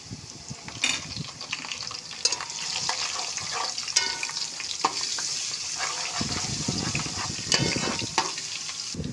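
Garlic paste frying in a pan sizzles steadily throughout, with repeated scraping stirs and occasional utensil clinks close by.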